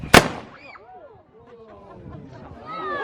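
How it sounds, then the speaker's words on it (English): A single sharp, loud crack from a percussion-cap musket fired at an 1851 living-history town, Sovereign Hill in Australia, ringing out at the start before people's voices and reactions follow. "I'm going to place it onto what is called the nipple of the musket here. Firing in 3, 2,"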